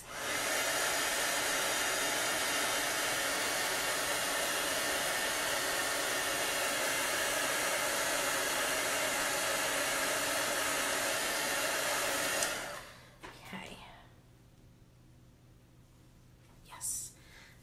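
A heat gun blows hot air over a chalkboard craft, a loud steady roar held for about twelve seconds before it cuts off, followed by quieter handling noises.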